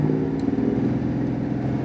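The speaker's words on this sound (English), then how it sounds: "Full throttle, nothing. Just tries to like throb right around 1200 RPM." A Pontiac Firebird Trans Am engine with an ignition fault bogs under full throttle, giving a steady, close, low throbbing drone around 1200 RPM that never climbs.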